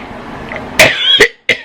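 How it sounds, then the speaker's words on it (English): A person clears their throat in a few short, gravelly bursts, close to the mic, with brief pauses between them. "Sorry, just clearing my throat."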